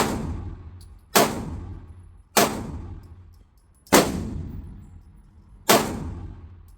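Five sharp pistol shots ring out one at a time from a compressed Kimber KDS9C or Sig P365 Spectre Comp handgun at an outdoor range, each loud, close crack trailing into a fading echo, spaced about one to two seconds apart.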